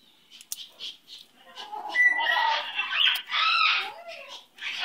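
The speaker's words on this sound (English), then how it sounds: "Oh, you my little baby bird." Dukie, a pet bird, lets out a run of chirpy squawks and calls in a quick, uneven series, close and fairly loud, with only brief gaps between them.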